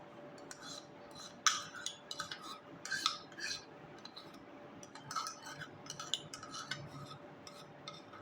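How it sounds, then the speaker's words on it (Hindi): A spoon works yogurt and gram flour together in a small bowl, giving soft, irregular clinks and scrapes of metal against the dish, quiet and close, with no talking. "2 चम्मच दही लेना है, 1 चम्मच आपने बेसन लेना है, ठीक है? इनको मिक्स करना है।"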